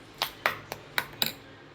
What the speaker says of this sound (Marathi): आता आपण गॅसवरती तवा ठेवायचा आहे।